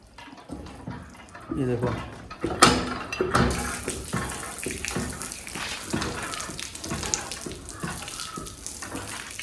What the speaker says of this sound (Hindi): अभी मैं चलाता हूँ तो देखता हूँ आता है पानी कि नहीं